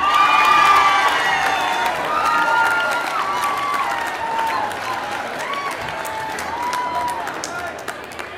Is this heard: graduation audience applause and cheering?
yes